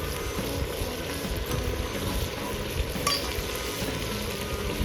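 Chicken fry with cumin paste being stirred in a hot pan, a continuous sizzle and frying hiss with soft scraping stirs throughout and one brief clink of a utensil.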